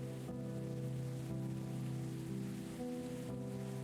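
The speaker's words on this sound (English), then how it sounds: "I love that it's raining in the game." Soft, steady rain patters in the video game Necro Barista, a continuous gentle hiss sitting under a low droning hum of game music.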